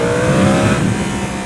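A Yamaha R1M inline-four sport bike with a crossplane crankshaft howls through its intake as it revs, a close, loud, sustained engine drone that rises slightly and then eases.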